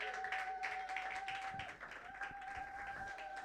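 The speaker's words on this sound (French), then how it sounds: "Nous pouvons applaudir la parole de Dieu." A church congregation applauds softly in a sermon setting, a faint patter of clapping under a steady tone and some background murmur.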